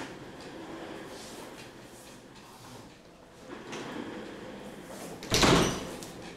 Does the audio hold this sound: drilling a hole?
no